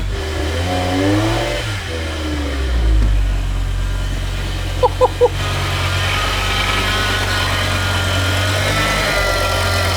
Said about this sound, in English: Stop whining. Every time with these power steering pumps.